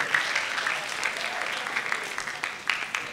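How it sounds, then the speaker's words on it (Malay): Audience applause at a Malaysian public talk in Kuantan, a steady wash of clapping from a gathered crowd filling the short span at moderate level. "berikan tepukan kepada diri anda sendiri."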